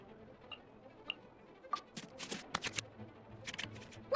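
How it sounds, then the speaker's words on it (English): Cards are shuffled and drawn in the Genius Invokation TCG card game in Genshin Impact, heard as a few quick, soft papery riffles and flicks in the second half, along with a couple of faint chime-like ticks. "select any number of cards in our hand to shuffle back into the draw pile"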